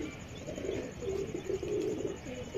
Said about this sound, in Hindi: ये देखे जी बिच्छू स्लेटे माशाल्लाह कबूतर है